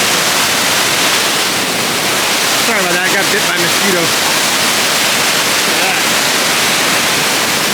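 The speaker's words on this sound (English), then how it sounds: "water's running down the steps. That's a waterfall!" A waterfall at Agate Falls, Michigan, pours down rock steps in a constant loud rushing roar that fills the scene, while someone talks briefly over it.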